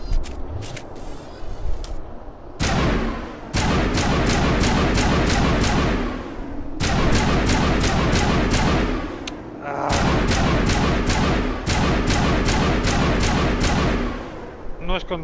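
Repeated bursts of weapon fire from the Sunder gun in Mass Effect 1, loud, booming volleys in several long runs separated by short pauses, with no continuous automatic fire.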